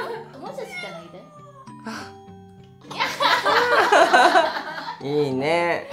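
Near the end, a Siamese cat gives a clear, wavering meow after a stretch of lively indoor conversation and laughter.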